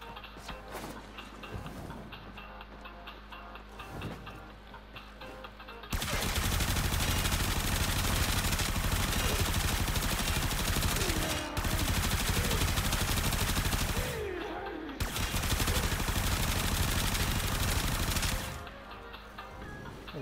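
Super Vandal rifle firing in a video game, sustained loud bursts of automatic fire with brief pauses between volleys, preceded by quieter game ambience.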